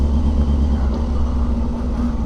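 A motorcycle engine idles in a steady, close, low rumble during slow maneuvering to park, with no clear revving and no voices.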